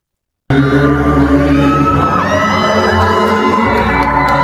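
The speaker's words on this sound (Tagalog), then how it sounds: "grabe, lakas ng crowd" A big audience cheers loudly for Elvis impersonator Jerome Evardome, a sudden wall of whoops, shouts and screams that bursts in after a moment of silence and stays dense and sustained to the end.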